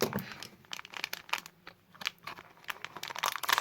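Scissors crunch and rustle through a plastic bag of soil, producing a dense run of crinkling, snipping and tearing sounds up close, fairly quiet, with no talking.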